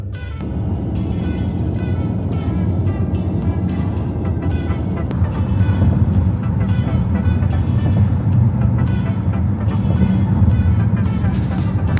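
A car drives along with a steady low road and engine rumble heard from inside the cabin, loud and continuous, with faint voices and small clatters layered over it.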